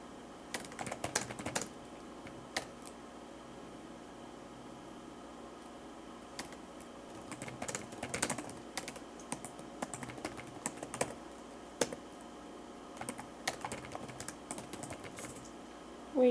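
A small pet hedgehog walks across a computer keyboard, producing faint, irregular clusters of key clicks over a steady low fan hum, close and quiet with no speech.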